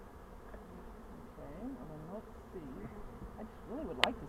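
Honeybees buzzing around a spring hive being checked, with workers carrying pollen: a faint, close, wavering drone of many wingbeats, rising and falling, with a sharp click near the end.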